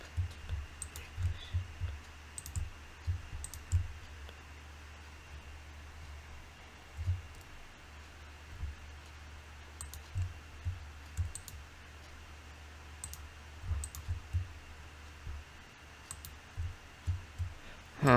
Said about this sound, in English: Actually, let me do Shift Alt right click.